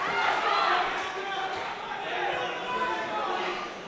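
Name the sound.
excited crowd at boxing match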